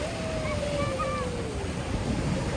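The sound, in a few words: ocean waves crashing at the beach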